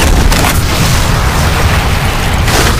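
Deep explosion of a destroyed deployable in the shooter game Section 8, a loud sustained low rumble filling the whole stretch with a brighter crackling burst near the start and another near the end.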